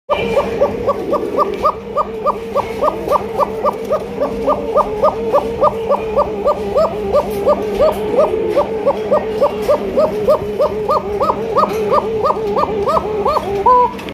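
White top spangle Coca pigeons coo in a steady, rapid rhythm, dozens of evenly spaced throaty pulses repeating close up for the whole stretch over a faint background drone.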